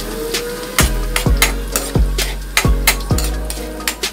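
Garlic sautéing in a pan, with a steady sizzle broken by five or six sharp regular knocks of a spatula stirring against the pan.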